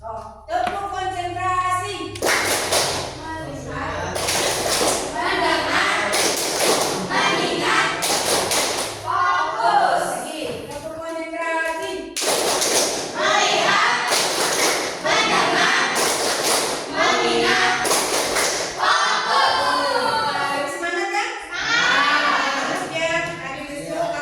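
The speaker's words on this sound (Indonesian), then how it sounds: "tepuk konsentrasi" A class of children in an Indonesian classroom claps a patterned concentration-clap rhythm together, sharp bursts of claps alternating with chanted voices in a lively call-and-response.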